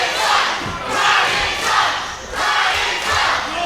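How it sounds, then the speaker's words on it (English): Wrestling crowd at a CCW tag team title match loudly jeering a wrestler, a sustained roar of boos and shouts that swells and dips in waves across the arena. "And the crowd clearly does not like Bryan Adams here"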